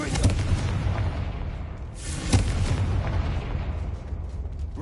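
A Confringo fire spell explodes in Hogwarts Legacy with loud booming blasts, one at the start and another about two seconds later, each followed by rumbling debris and crackle.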